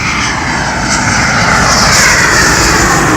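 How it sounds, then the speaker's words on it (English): An airplane passes very low and close overhead in Los Angeles County, its engine roar loud and steady, swelling slightly as it goes by. "You got an airplane right there. Very close."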